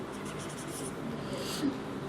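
Pen or chalk writing out a working rule for special forms of integration in a math lesson, soft scratchy strokes, faint and close, with brief quiet speech.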